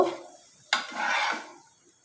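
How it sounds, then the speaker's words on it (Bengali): A fried paratha being lifted from a hot pan, with a sharp scrape of the utensil followed by a brief sizzling hiss that fades out, close and fairly loud. "তো পরোটাটা হয়ে গেছে এবার আমি উঠিয়ে নেব"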